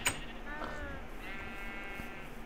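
Sheep bleating in the survival video game Survival Island, two or three wavering bleats over a quiet background hum, moderately near and fairly soft.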